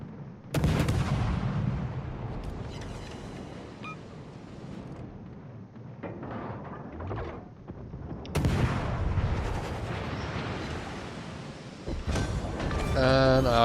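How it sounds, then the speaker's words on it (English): Warship guns and torpedo hits in World of Warships Legends, heavy booming blasts and rumbling explosions that come in waves, with a burst of game sound effects near the end. "I got a lucky shot with my torpedoes or with my gunfire"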